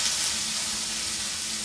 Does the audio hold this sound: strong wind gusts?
no